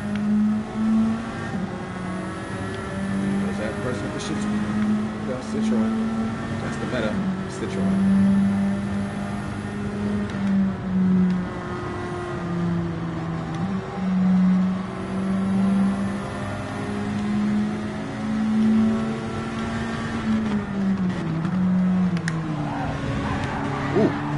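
Race car engine in the video game Gran Turismo 7 on a PS5, droning steadily with rising revs and repeated upshift dips throughout, loud and continuous.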